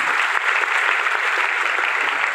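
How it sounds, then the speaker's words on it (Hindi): Audience clapping at a network-marketing business meeting, a brisk continuous burst of many hands that holds steady throughout. "एक बार ताली बजाइए, जबरदस्त।"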